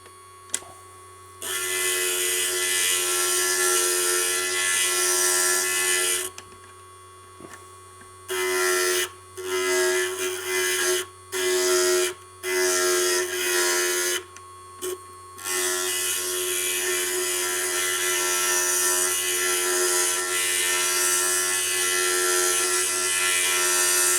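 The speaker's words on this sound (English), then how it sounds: "I'm going to just carve a little bit out there, and that's the wonderful thing about the grinder" A handheld grinder carves mosaic tile with a steady, loud buzzing whine that runs in several on-off bursts of varying length, then holds longer near the end, all over a low electrical hum.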